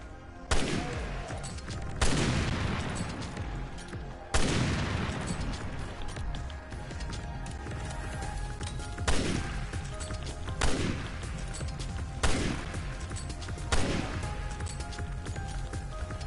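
Rifle fire from Resident Evil: Revelations 2: loud, sharp single gunshots repeating at irregular intervals about every one to two seconds, each with a booming tail, over a continuous dense game backdrop.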